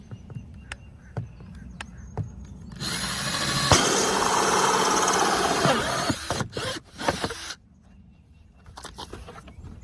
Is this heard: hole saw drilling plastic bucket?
yes